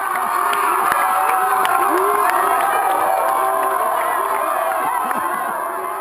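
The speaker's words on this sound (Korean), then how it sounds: "이긴 우승자에게 진심을 담은 축하와 환호가 여기저기서 터져나옵니다" Outdoor crowd at a Kabobo wrestling match in the Democratic Republic of the Congo, cheering and shouting steadily for the winner, a dense continuous roar with voices rising throughout.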